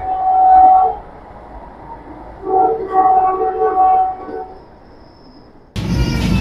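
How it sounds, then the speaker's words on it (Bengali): Vande Bharat Express train on the Howrah–New Jalpaiguri route pulling into Barsoi Junction, a loud tonal horn or whistle sounding in long blasts over running rumble, then a sudden broadband roar near the end. "মানে 11:40 ট্রেন ঢুকছে বারসোই জাংশন।"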